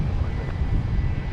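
An airplane landing at Dallas Love Field gives off a loud, steady low engine roar close by, rumbling without a break for over a second.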